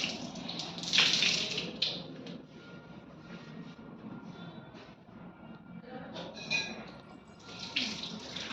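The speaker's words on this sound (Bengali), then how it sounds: "এখন ধোয়া হচ্ছে এখানে।" Water runs steadily as devotees wash at the Shitala Devi shrine of Baskinath Dham temple in Dankuni, a continuous hiss and splash with brief louder gushes and no talk.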